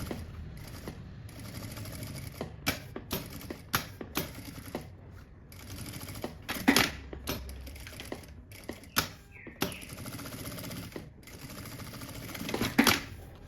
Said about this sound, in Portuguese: Vou vir aqui e vou fazer aquela costurinha por toda a volta de segurança.